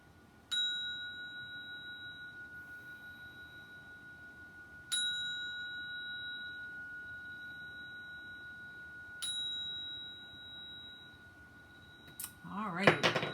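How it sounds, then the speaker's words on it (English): A clear resonant sound bell struck three times, each ring spaced about four seconds apart and slowly fading, with a brief rustle at the end. "we start that with ringing the sound bell 3 times"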